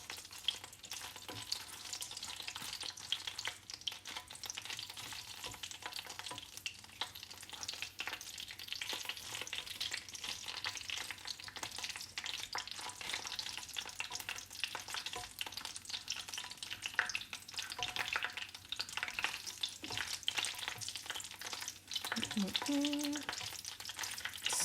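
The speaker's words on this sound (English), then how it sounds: "So right now we're infusing our oil with this chile flavor." Chile peppers fry in oil for chile oil with a continuous crackling sizzle and dense bursts of popping throughout. The sound is steady and close, with a brief utensil clink near the end.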